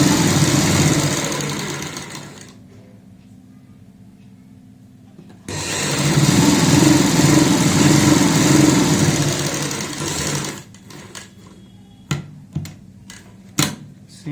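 A sewing machine stitching a coat collar on a kurti, with steady loud whirring bursts separated by a quiet pause, then a few sharp clicks and taps near the end.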